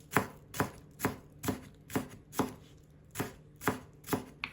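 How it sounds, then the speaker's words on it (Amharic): A knife chops leeks finely on a board, about nine crisp, evenly spaced strikes in steady rhythm, close and clear with no talking. "ባሮ ሽንኩርት እንደዚህ ሁለት ተጠቅሜያለሁ። እሱንም እንደዚህ ደቀቅ አድርጌ ከትፈዋለሁ።"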